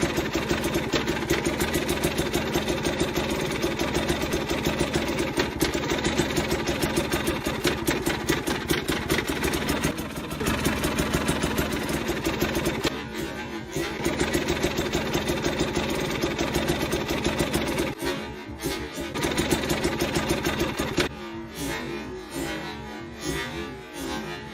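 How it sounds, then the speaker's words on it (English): A KTM TPI motorcycle engine runs at low RPM, a loud, steady, close mechanical drone with a fast pulsing texture, dipping briefly a few times and falling to a slightly quieter, rougher running near the end. "when I was in the really low RMPMs, the bike started to go backwards"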